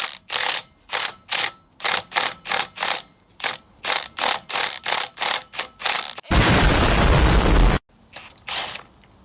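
A hand ratchet loosens a car shock absorber top mount with a rapid run of loud, evenly spaced clicking strokes, then a short continuous burst of grinding, before a few more clicks.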